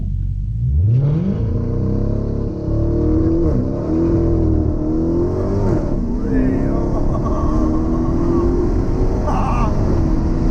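A Dodge Hellcat in track mode accelerates hard, its loud, close engine climbing steadily in pitch with strong revving and tyre noise throughout, while people talk over it.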